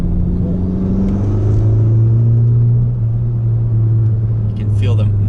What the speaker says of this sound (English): You can feel the muffler delete brings a nice tone.